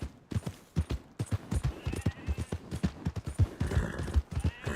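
Horse hooves clip-clop in Red Dead Redemption 2 as a horse is ridden, a fast, loud, steady galloping rhythm of thudding beats, with faint background sounds near the end.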